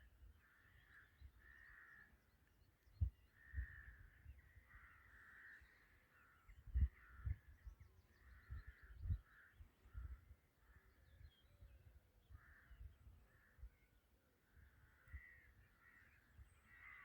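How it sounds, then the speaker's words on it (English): Several crows caw repeatedly at sunrise, harsh calls coming in uneven bursts at moderate distance, with occasional sharp knocks and low rumbling background noise and no talking. "Glad I don't live any closer to those crows."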